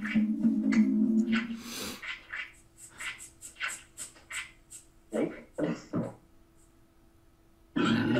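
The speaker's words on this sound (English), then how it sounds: "That was a good burp" Clayman in The Neverhood lets out a long, low, throaty burp, followed by a run of short croaking gulps and bursts, then quiet before another sound starts at the very end.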